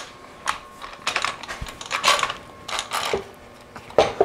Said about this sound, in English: And then I just clamp the square down.